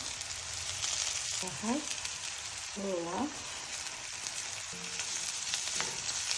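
Potatoes, carrot and onion frying in hot oil for a vegetable string hopper kottu, a steady close sizzle with faint chirpy background noises over it.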